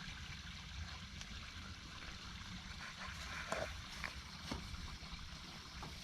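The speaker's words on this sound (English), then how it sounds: "open your gray tank valve, and let it rip. And all the water's going down" RV gray water tank draining at a dump station, a faint steady rush and trickle of water running out with small splashes.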